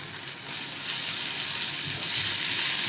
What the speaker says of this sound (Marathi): सगळं मी मिडियम गॅसवर परतून घेते